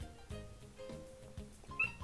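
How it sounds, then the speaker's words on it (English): A cat meows several times in quiet, repeated cries, faint and somewhat distant, in an indoor room. "I don't know if you can hear that, the cat meowing."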